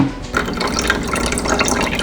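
Water is poured steadily into indoor plant-growing trays, a continuous splashing and trickling fill that stays fairly loud and even throughout, with no talking.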